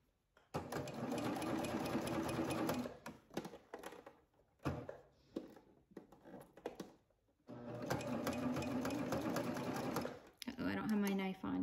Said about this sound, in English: I serge around.